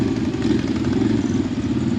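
A motorcycle engine idles steadily at a vehicle gathering, a continuous low clattering rumble held close and even throughout with no talk over it.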